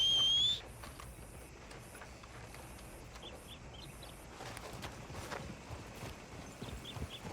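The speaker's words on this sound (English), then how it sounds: "esse cavalo branco é lindo, velho" White horse walking in the video game Red Dead Redemption 2, steady hoof clip-clops over outdoor ambience with faint bird chirps.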